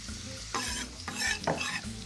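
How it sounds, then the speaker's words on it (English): Garlic and chilies fry in butter in a pot, a steady close sizzle broken by repeated bursts of stirring and scraping. "All of that's going to go into the pot with the butter here,"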